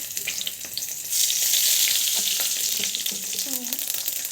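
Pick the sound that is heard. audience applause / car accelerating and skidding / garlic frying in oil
garlic frying in oil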